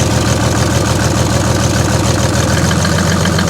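A Mercedes OM606 turbo diesel engine, just brought to life, idles loud and close with a steady, knocking diesel clatter and no voices.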